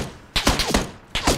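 Gunfire in the video game PUBG comes as two quick bursts of close, sharp shots separated by a short pause, with no talking.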